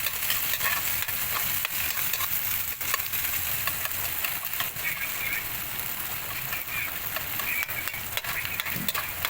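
Garlic, onion and ginger sauté in a pan, an even, continuous sizzle and crackle with occasional stirring clicks, close and steady throughout.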